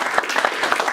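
Brief, scattered applause from a small audience at an aero club safety meeting, with light uneven claps close by filling the whole moment.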